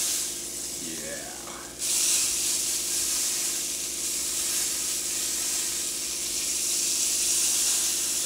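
A steak sizzles in brown butter in a pan, a steady, close, broadband hiss that jumps louder after a brief quieter start and holds throughout.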